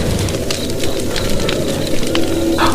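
Wood fire burning in a brazier as a horror cartoon effect: steady, close crackling with scattered sharp pops and snaps over a low rumble, no voices.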